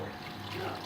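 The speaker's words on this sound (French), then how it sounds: "je vais mettre de l'eau chaude" Hot water is poured into a cooking pot of veal blanquette, making a short, steady stream of splashing liquid that stays fairly soft and close.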